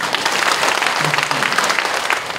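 Church congregation clapping at a pastor's installation thanksgiving service, dense and sustained applause from a full room lasting a couple of seconds.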